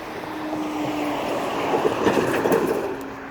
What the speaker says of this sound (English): I'm pretty sure the train's coming through the crossing.